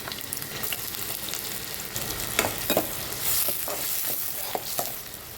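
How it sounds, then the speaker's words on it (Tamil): Onions fry in hot oil with fenugreek seeds, curry leaves and dried red chillies for a bitter gourd tamarind curry, a steady close sizzle broken by scraping stirs. "வெந்தயம், வரமிளகா ஒரு 5-6 உங்களுக்கு காரத்துக்கு ஏற்ற மாதிரி, வெங்காயம் போடுங்க"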